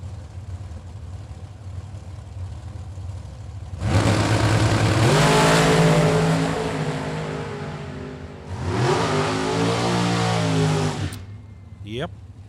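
A top-fuel drag racing dragster at the World Super Pro Challenge revs hard in two long, loud bursts, the engine note rising then dropping, with an announcer's voice over the track noise.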